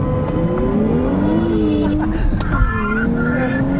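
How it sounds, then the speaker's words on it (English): A car accelerates hard with its windows down, the engine note climbing steadily in pitch under loud wind and road roar, with a brief tire squeal partway through. "And I'm going to do an acceleration here with the windows down."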